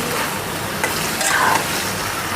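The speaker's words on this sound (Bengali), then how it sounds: "এটা একটু কষিয়ে নিতেছি" A fish curry with tomato, fish roe and salted dried fish sautés in a pan, giving a loud, dense, close sizzle with brief stirring scrapes throughout the short stretch.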